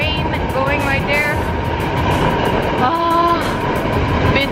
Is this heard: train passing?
yes